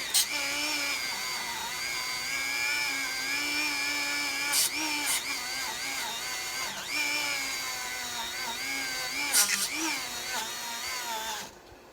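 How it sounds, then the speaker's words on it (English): A Dremel rotary tool with a wire brush attachment cleans a coil contact on a riding mower, whining steadily for about eleven seconds. Its pitch wavers under load, with a few brief scratchy bursts. "Using this Dremel attachment with a wire brush."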